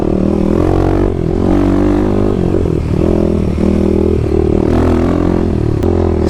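A 2021 Kawasaki KLX300 dirt bike fitted with a Power Commander rides along, its single-cylinder engine droning loud and close with small rises and dips in revs.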